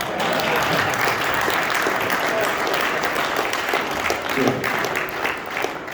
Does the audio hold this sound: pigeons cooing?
no